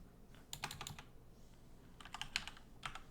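Quick bursts of typing on a computer keyboard, soft and close, with clusters of key clicks separated by brief pauses.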